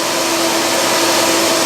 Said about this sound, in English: I turned on the vacuum cleaner and I'm going to start roughing it up.